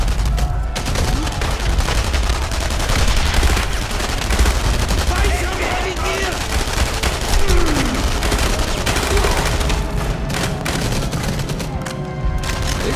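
Gunfire in the World War II shooter game Enemy Front, dense bursts of rifle and machine-gun shots and booms rattling almost continuously, loud and close, with scattered impacts throughout.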